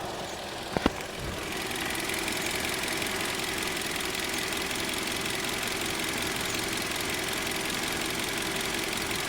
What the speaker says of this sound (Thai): เดี๋ยวฟังเสียงเครื่องยนต์กันนะครับ